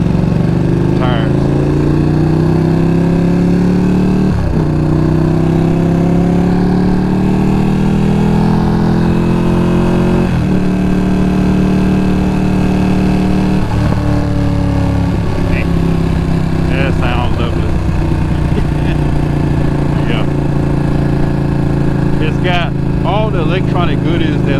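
A 2020 Ducati Panigale V2 motorcycle ridden on the road, its engine droning loudly and steadily with rising pitch sweeps as it accelerates through the gears under heavy wind rush, while a rider talks over it.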